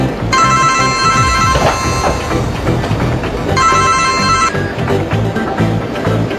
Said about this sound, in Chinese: 你手机响